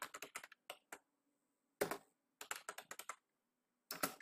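Typing Arduino code on a computer keyboard, close sharp keystrokes in short irregular runs separated by brief silences, some keys struck harder than others, with no speech.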